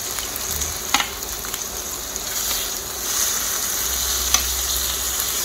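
Kimchi sizzles steadily while grilling alongside beef and abalone on a hot pan, a continuous close frying crackle with a few louder pops and no talk.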